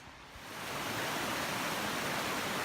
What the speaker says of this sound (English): Probably hard to hear me over the creek